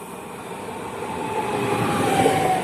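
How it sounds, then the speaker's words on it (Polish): A regional passenger train, Słupsk to Szczecin Główny, rumbles steadily into Szczecin Dąbie station, its noise slowly building louder as it approaches, with a faint rising squeal of wheels near the end. "Wjeżdża pociąg Regio Słupia, relacji Słupsk-Szczecin Główny."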